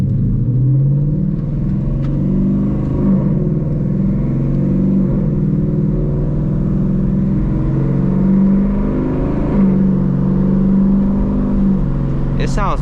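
A Ford Mustang GT accelerates in first gear in sport mode, its engine a loud, steady, aggressive drone that climbs gently and holds close throughout, with a brief sharper burst at the very end.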